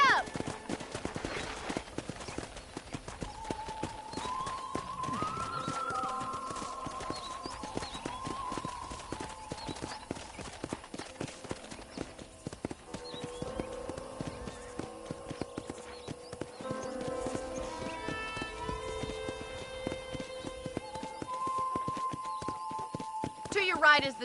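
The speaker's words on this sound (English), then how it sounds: "let's see if you can still ride a horse" Horse hooves clip-clop steadily through a Red Dead Redemption ranch tour, mixed under continuous game music and a narrating voice, with a brief whinny possible near the start.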